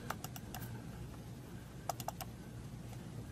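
Quick pairs of sharp clicks from a computer mouse double-clicking on a graph in LinkConn 1000 software, two separate bursts, close and fairly quiet over a steady low hum.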